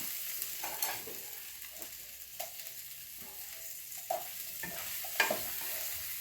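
Potatoes frying in a pan with turmeric and chili powder, a constant soft sizzle broken by occasional stirring scrapes and clinks, fairly quiet and with no talk over it.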